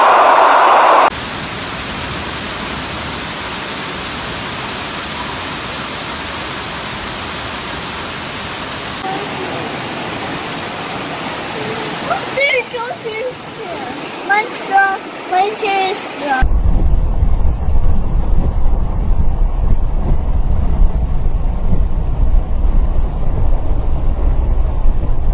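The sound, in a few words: flash floodwater rushing past a car in Pittsburgh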